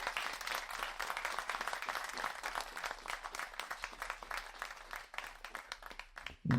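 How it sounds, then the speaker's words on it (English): An audience applauds a panel at a tech workforce event in Bristol, with dense, steady clapping that runs for several seconds before cutting off near the end. "please give our panel a very big round of applause"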